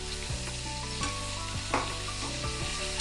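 Khavle fish roe (gaboli) frying in plenty of oil in a pan, giving a steady, close sizzle with soft bubbling pops and occasional louder crackles, and no talking.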